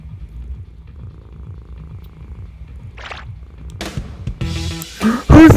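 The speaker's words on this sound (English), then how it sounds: "Whose cat is that?" Close, low rhythmic purring of a cat, steady pulsing rumble for several seconds before rustling and louder handling noises break in near the end.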